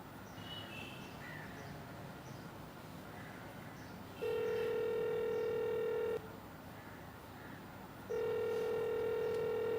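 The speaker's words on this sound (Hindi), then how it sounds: "बेल तो जा रही है।" An outgoing call's ringback tone on a mobile phone, heard as two long steady tones separated by a pause over quiet room ambience.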